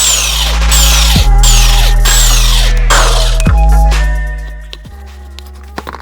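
A power impact tool whirs and rattles in loud bursts close by while lug nuts come off a Subaru Forester wheel, with sharp pauses between runs and the whine trailing off near the end.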